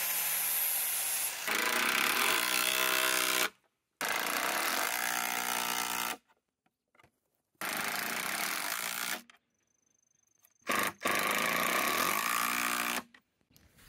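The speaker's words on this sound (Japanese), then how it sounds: "こんな感じで斜めにね、4箇所ボルトで止めることにしました。" A power tool drives bolts diagonally into wood at four points, coming in loud, close whirring bursts several seconds long with short silent pauses between them.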